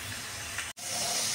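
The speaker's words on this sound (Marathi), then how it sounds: "आता चॉपरमध्ये बारीक केलेला कांदा आपण फोडणीला टाकूया" Finely chopped onion hits hot oil for a tempering while cooking pav bhaji, giving a loud, steady sizzling hiss that drops out for an instant and then carries on strong.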